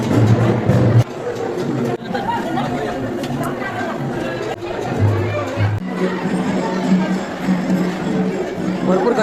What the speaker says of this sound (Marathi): भरपूर गर्दी प्रचंड गर्दी आहे.